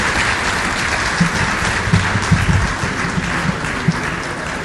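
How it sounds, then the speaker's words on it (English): An audience gives a steady, dense round of applause for a reverend arriving at an annual lecture, loud and sustained throughout with no talk over it. "Please give him a round of applause as he comes to me."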